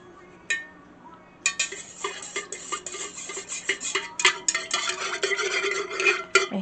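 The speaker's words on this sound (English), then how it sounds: "I'm going to give this a nice mix, nice stir." Stirring of a dyed soy wax candle mixture in a container, a close, steady run of scraping clinks and swishes that starts after a brief tap and continues irregularly, with no talk.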